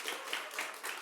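A church congregation claps for a guitarist at a Friday prayer service, with dense applause running steadily through the short moment.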